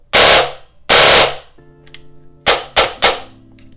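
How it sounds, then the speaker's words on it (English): A custom-built airsoft gun fires loud, sharp bursts: two long full-auto strings, then three shorter rapid bursts close together, with a faint electric whine and brief pauses between them. "This thing is actually working really well in semi and auto."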